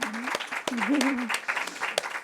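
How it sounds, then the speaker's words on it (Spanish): A brief burst of audience clapping at an academic panel discussion, with a voice speaking over the scattered claps throughout. "un aplauso para Juan Antonio"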